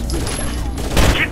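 Gunfire in the Rainbow Six Vegas video game, a combat exchange at Dante's Casino, heard as a dense burst of shots that grows louder toward the end, with radio-style voices mixed in.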